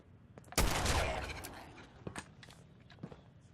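A single gunshot in the Fallout 4 video game, a sharp loud crack followed by a decaying tail, then scattered faint clicks and footstep-like thuds.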